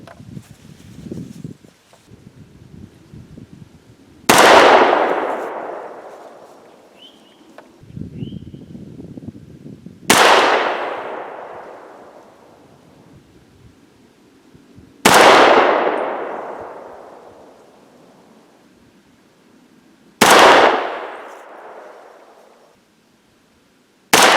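Four sharp, loud 300 Blackout rifle shots fired with cast lead bullets, evenly spaced about five seconds apart, each with a long echoing decay and faint rustling between.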